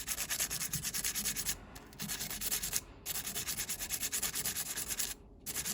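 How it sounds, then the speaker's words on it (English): Rough 220-grit sandpaper is rubbed over a silver buoy earring in quick, steady back-and-forth strokes, with three short pauses between the bursts. The scratchy rasp is close and loud with no talk. "So I start with pretty rough sandpaper. It's a 220"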